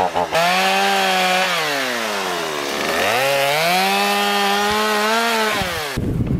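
A chainsaw screams close by, its pitch sagging and rising as it bites through wood, running continuously for several seconds before cutting off.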